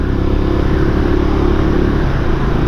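A Benelli Imperiale 400 motorcycle rides along narrow back lanes, its engine a loud, close, steady drone with a low rumbling throb throughout.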